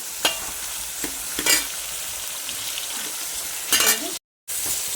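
Onions fry with spices in a pan for fish head curry, giving a steady close sizzle broken by a few scraping stirs, with a brief dropout near the end.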